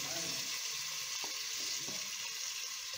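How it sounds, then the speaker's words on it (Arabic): Onions frying in a pan, browning in hot oil, give off a steady, bright sizzle that continues without a break, with a few soft knocks and scrapes of stirring. "هنا البصل اهي قربت تحمر اهي، احمرت اهي البصلة"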